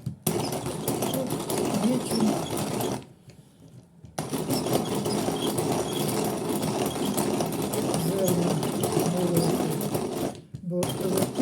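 A secondhand coffee grinder bought at a flea market runs on coffee beans, giving a steady, close motorized buzzing whir that stops briefly once and then resumes.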